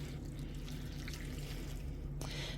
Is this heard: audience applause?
no